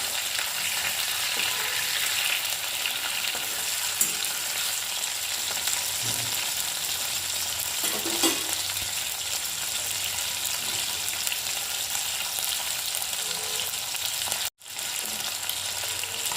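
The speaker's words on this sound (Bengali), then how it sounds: "মাছটাকে খুব একটা বেশি ফ্রাই করবো না" Hilsa fish fries in oil with a constant, even sizzle and occasional faint stirring or spatula sounds, steady and close throughout.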